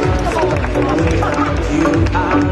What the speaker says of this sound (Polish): Wielkie brawa, debiutant.